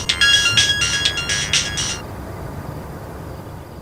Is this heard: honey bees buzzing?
no